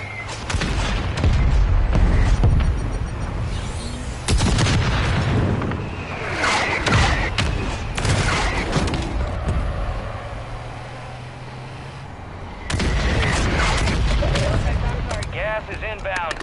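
Mortar strike explosions in the Warzone battle royale video game: several heavy booms and rumbling blasts spread across the stretch, loud and close, with a radio-style voice speaking between impacts.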